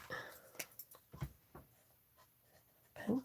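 Pink pencil scratching over paper as lettering is highlighted in a Bible journaling page, a series of short, soft, close strokes with brief pauses between them.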